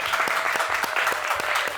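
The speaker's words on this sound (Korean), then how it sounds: "우리 홍승표 목사님과 김태현 목사님 큰 박수 부탁드리면서" Brief burst of steady audience applause for two pastors at the close of a two-day Protestant religious-stay program, continuous clapping from a room of participants, fairly close and even.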